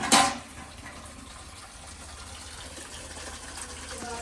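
Water gushes steadily into buckets in a Punjab village home after a short thump at the start, a continuous moderate pour with no voices.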